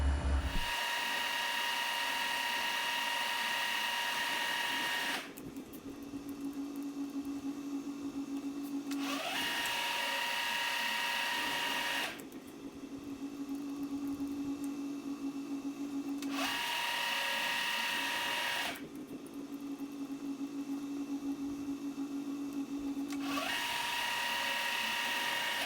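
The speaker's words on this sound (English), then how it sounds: "So I'll swap this out for centre drill, and rotary table set to 0, so every 90 degrees. Spot them, then drill them," A centre drill spots holes every 90 degrees in a metal lathe spider part on a rotary table. It gives a steady, loud whine with several cutting passes that briefly drop in pitch and level between holes.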